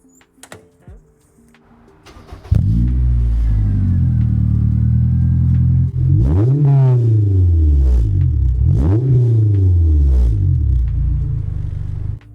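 A Royal Navy Blue Pearl Honda S2000 sports car, its high-revving engine capable of 9,000 RPM, blipped hard three times in succession, each rev rising sharply and falling back, loud and close after a few quiet clicks.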